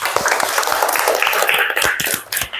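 Children in a classroom clap together for a classmate during an Islamic religious education lesson, a loud run of uneven claps up close that thins out near the end.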